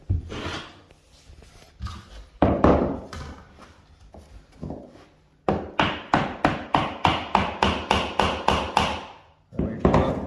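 A hammer tapping on wood flooring, first a few scattered knocks, then a quick regular series of about a dozen sharp taps, close and fairly loud.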